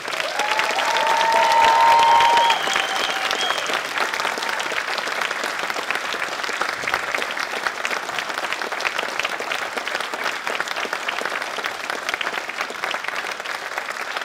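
A large audience at a college student awards ceremony claps steadily for several seconds, sustained and even, with a faint tone at the start and no talking.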